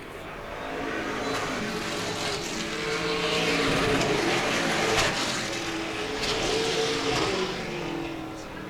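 Race cars roar around a speedway oval in a feature event, engines droning steadily and loudly throughout, with rising and falling passes as cars go by.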